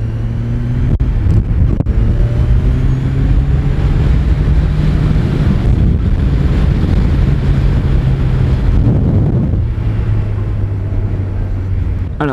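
A low, muffled Kawasaki Z1000SX engine with stock exhaust drones steadily while riding, with wind rushing over the microphone and slight shifts in engine pitch.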